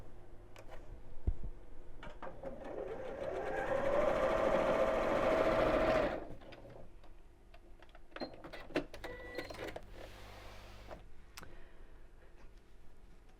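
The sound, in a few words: sewing machine stitching a backpack seam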